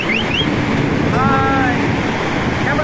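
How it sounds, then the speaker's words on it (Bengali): Monsoon-swollen Shivanasamudra waterfall, streams pouring down on all sides, makes a dense, unbroken roar of rushing water close by, with faint voices briefly rising above it. "প্রচুর জল ফলসে, চারদিক দিয়ে ধারা নেমে এসছে।"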